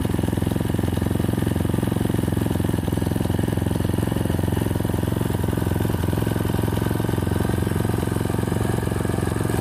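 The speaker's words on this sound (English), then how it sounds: "That's the sound of the engine of a four-stroke with the stock muffler." Four-stroke engine with its stock muffler runs steadily on a stand-up scooter made in the Philippines, a loud, continuous low idle drone held close throughout without revving.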